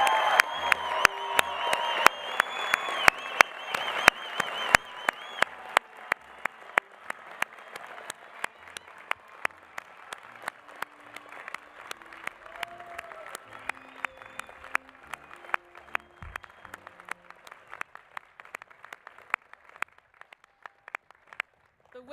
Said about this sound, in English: Please join me in a round of applause for these new graduates.